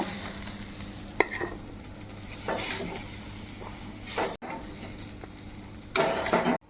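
Boiled ripe teasel gourd fries in a pan with a soft sizzle, broken by several sharp scrapes and stirs of a spatula. The sounds are close and come at irregular moments.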